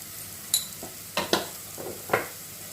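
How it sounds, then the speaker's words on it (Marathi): Spices and ginger-garlic paste sautéing in oil, quiet sizzle under several distinct scraping stirs of a spoon against the pan, close by. "आणि आलं लसूण पेस्ट. हे तेल सुटेपर्यंत छान परतून घ्यायचं आहे."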